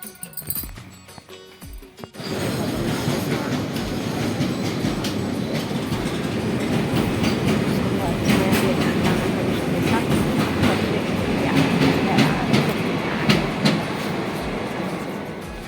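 Passenger train rolling along the rails at night, a steady loud rumble with rhythmic clickety-clack that starts abruptly after a quiet opening and continues throughout.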